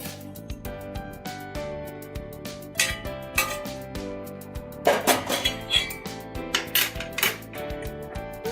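Roasted chana dal scooped out of a metal pan, with repeated scraping and clinking of a spoon against the metal in an uneven rhythm, close and fairly loud.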